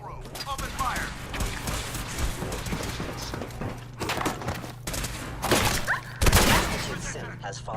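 Gunfire from the video game Fallout 4 rattles in repeated bursts and volleys, with sharper, louder blasts near the end, mixed with in-game voices.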